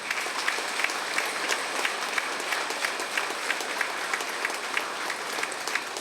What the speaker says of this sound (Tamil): இந்த மேடையில் இருக்கின்ற அத்தனை பெரியவர்களுக்கு ஒரு கைத்தட்டல் கொடுங்க.